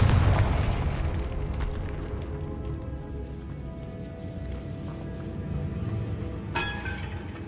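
A Confringo blasting spell in Hogwarts Legacy sets off a loud rumbling boom that rolls on and slowly fades, followed by a brighter crackling burst near the end.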